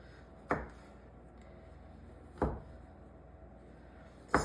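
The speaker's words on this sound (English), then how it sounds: "Now we're just gonna trim it, cut them into little pieces" A knife cuts chilled, firm cookie dough for Christmas cookies into small pieces, giving three distinct dull chops on a board spaced about two seconds apart, over a quiet room background.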